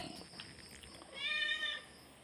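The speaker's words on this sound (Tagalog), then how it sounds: "Kulit ng aking alagang pusa." A pet cat lets out a single drawn-out meow in the middle of the clip, fairly close but not loud, set against quiet indoor background noise.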